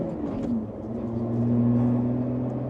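A Lotus Evora 400 with its V6 engine pulling from inside the cabin, a steady droning hum that rises slightly in pitch, moderately loud and without talk.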